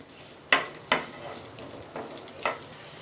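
Okra sautéing in a pan, with a few soft stirring scrapes and light sizzles spaced across a quiet background; no talk.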